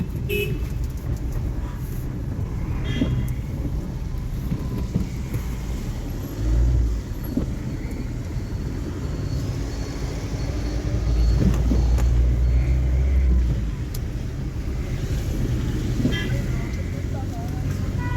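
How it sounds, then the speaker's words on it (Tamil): Busy road traffic at the municipality junction in Kodaikanal during a rainy December spell, with a steady drone of passing cars and buses, occasional horn toots, and louder vehicles rumbling close by around the middle and the end. "இது ரொம்ப எப்பயுமே போக்குவரத்து அதிகமாக இருக்கக்கூடிய நம்மளுடைய இந்த முனிசிபாலிட்டி ஜங்ஷன்"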